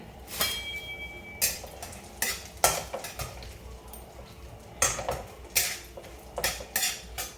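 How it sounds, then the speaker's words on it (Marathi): Cashew and almond pieces being stirred and roasted in a kadhai, with bursts of scraping and clinking from the spatula against the metal pan between quieter gaps, no voices. "काजू बदाम आपण कढईमध्ये टाकले आणि छान असं परतून घेणारे"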